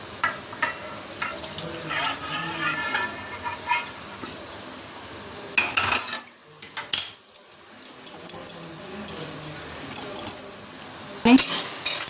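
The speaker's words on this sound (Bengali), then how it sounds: "ঢেঁড়স ভাজা হচ্ছে।" Okra fries in a pan for a home-cooked birthday meal, with a soft sizzle beneath close metallic clinks and scrapes of a utensil stirring and tapping the pan in irregular bursts.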